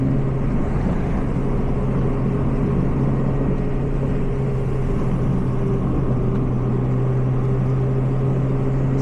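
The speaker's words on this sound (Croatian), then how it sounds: "Sam je guma mi je nekak malo čudno bučna, nisam navikao na to" A Citroën C2 VTS race car gives a loud, steady road roar from the inside, a constant low droning hum of engine and tyre noise that never lets up.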